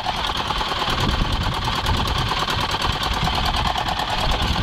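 A fishing boat's engine runs steadily on a river with plastic snagged on it, a dense, continuous mechanical drone with a fast, even rattle throughout, close and loud, no voices.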